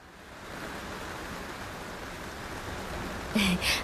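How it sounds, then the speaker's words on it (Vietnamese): Heavy rain pours in an animated Vietnamese folk-tale cartoon, a steady broadband hiss that holds evenly throughout, with a short voice-like sound breaking in near the end. "trời mưa to quá"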